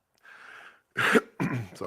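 A soft breathy sound is followed by two sharp, close throat-clearing coughs in quick succession.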